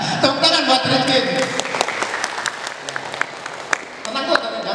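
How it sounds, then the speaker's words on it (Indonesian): Students at a vocational high school journalism training session give a classmate a round of applause, a burst of scattered clapping with voices talking over and around it. "Tepuk tangan buat Rizkin"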